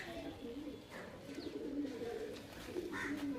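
Rajasthani Kalmuhe pigeons cooing inside a home loft, a steady low murmur of overlapping coos running throughout, with a voice talking faintly over them.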